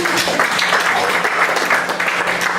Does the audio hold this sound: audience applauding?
yes